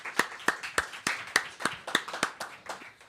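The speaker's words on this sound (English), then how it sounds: "Another round of applause for Leo." A small audience at a livestreamed performance event claps for a performer, a sparse, distinct run of individual claps at a loose rhythm, fairly close and unaccompanied by talk.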